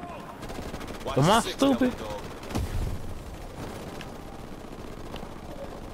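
Gunfire in Call of Duty: Modern Warfare Remastered, with bursts of rattling shots and a heavier blast in the middle, under a man's speech.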